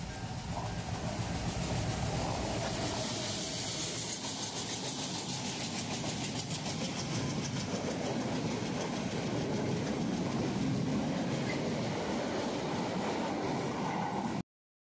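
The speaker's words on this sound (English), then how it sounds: "crossed this railway line on which a train was approaching" A train in Sri Lanka rumbles and clatters along the rails, loud and close, in a steady roar that swells slightly and holds throughout, with no talking.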